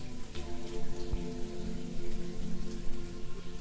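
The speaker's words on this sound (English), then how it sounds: "the rain continues to fall, relentlessly, unceasing" Steady rain pattering down on surfaces, a continuous dense hiss with scattered drops, no voices.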